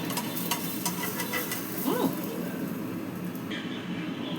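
A paratha with garlic and cheese sizzling in butter on a pan, a steady soft frying hiss that runs throughout with light scraping, fairly close and quiet.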